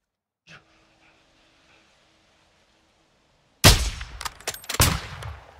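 Sniper rifle shots ring out in Call of Duty: Modern Warfare II (2022), with one sudden loud crack after near silence, followed by a few more sharp reports and clangs that echo away.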